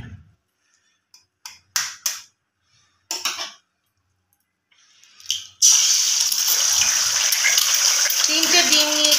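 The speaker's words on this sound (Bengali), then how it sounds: "এবার আমি কড়ায় ডিম ফাটিয়ে দেবো।" Three eggs cracked into hot oil in a wok: a few sharp taps and cracks, then a loud sudden sizzle and spatter that continues steadily, close by.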